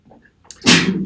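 A single sharp sneeze in a university real analysis lecture room, a soft breath-in followed by a loud burst that trails off.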